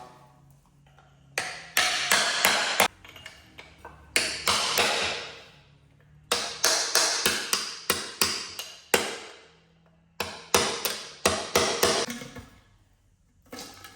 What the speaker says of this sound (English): And knock this rear cover off.